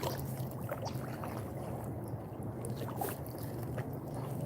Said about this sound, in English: when I fish in my kayak, I'm always paddling backwards